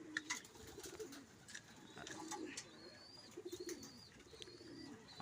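Pigeons coo softly and repeatedly while feeding, low throaty calls in short bursts close by, with faint higher chirps and a light rustling background.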